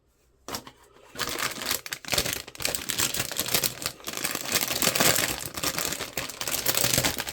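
Plastic vinyl bag from a Chinese-made HG Gundam Mk-II Titans model kit crinkles loudly and continuously at close range, with dense rustling and crackling that starts after a brief quiet moment.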